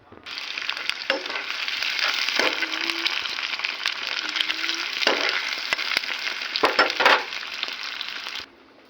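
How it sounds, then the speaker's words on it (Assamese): Onion, bay leaf and chilli hit hot oil in a kadai with a loud, bright sizzle, broken by a few spatula scrapes and knocks, then stop abruptly at the end, with no voices. "কেৰাহীত তেল গৰম হৈ আছিলে, সেয়ে পিঁয়াজ, তেজপাত, জলকীয়া দি দিলোঁ"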